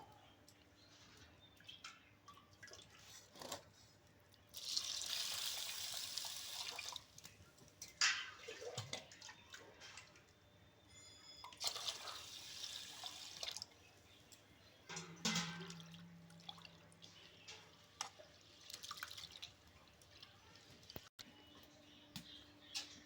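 Rice and three kinds of lentils (chana, moong and masoor dal) being washed in water for a vegetable khichuri, heard as intermittent splashing and swishing bursts with drips between them, moderately close.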